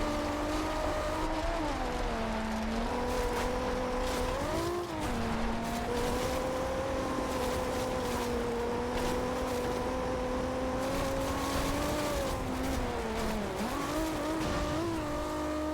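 Race cars in the Forza Horizon video game roar past during a race, engines whining and shifting pitch continuously with revving surges and a brief dip, loud and close with no talk.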